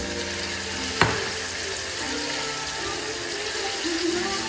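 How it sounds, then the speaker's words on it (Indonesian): Sambal bajak with tuna sautéing in plenty of oil, a steady broadband sizzle running throughout with a sharp clatter near the start and soft stirring scrapes. "Kita masak, kita tumis."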